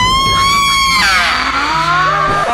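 A woman's high, piercing scream in a haunted house attraction, sustained and shrill with pitch sliding downward, loud and close.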